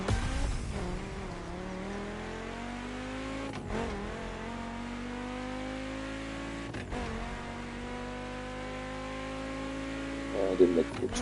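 Racing car engines in The Crew Motorfest video game drone steadily while accelerating. The pitch climbs through repeated gear shifts with brief dips, and a speaking voice runs faintly beneath the engine noise.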